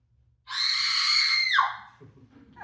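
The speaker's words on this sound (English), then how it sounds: "It always starts with a woman screaming." A woman screams in a stage play, one long loud sustained shriek lasting about a second before sliding down and cutting off, followed by faint low murmurs.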